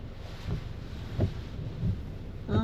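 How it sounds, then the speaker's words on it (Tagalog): Strong gusty wind outdoors in New Zealand buffets the microphone with low, rumbling blasts that swell roughly every second over a steady roar, with no voices. "Yan ang hangin."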